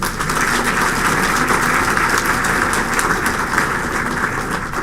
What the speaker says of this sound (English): Please give Joshua and Aaron a round of applause again.